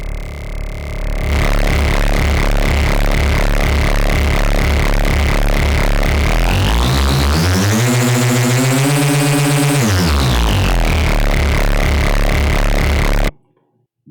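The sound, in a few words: synthesizer with distortion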